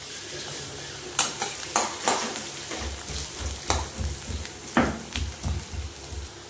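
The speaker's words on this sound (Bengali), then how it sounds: "এই আলুটা ততক্ষণ পর্যন্ত ভাজবো বন্ধুরা, একটু মানে লালচে হয়ে আসবে" Potatoes fry in a pan for a garlic potato dish, a steady close sizzle broken by repeated scraping stirs and a few sharp clinks of the utensil against the pan.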